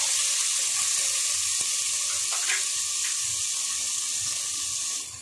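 Crushed garlic and finely chopped onion hit a hot pan for Kolhapuri chicken, producing a loud, continuous sizzling hiss that stays steady before easing slightly at the very end, without speech.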